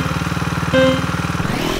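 Kart engines starting in the racing game DreamWorks Super Star Kartz, a rapid, steady putter of small motors with a brief higher tone partway through, then a change in the engine note near the end.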